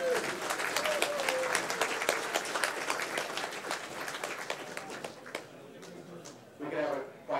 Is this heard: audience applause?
yes